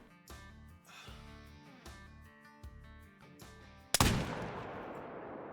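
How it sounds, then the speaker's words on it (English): A single loud rifle shot at a pronghorn in the hunting video game Call of the Wild, cracking sharply near the end and trailing off in a long echoing decay after quieter rhythmic sounds. "The shot looked good."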